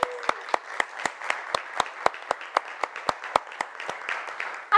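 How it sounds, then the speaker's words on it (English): A small group applauds a $1,000 donation at a virtual charity lunch-in for Habitat Chattanooga, giving sparse, evenly spaced individual hand claps, about twenty sharp claps in a steady rhythm, close and clear. "I just love the sound of hand claps when people give in our community."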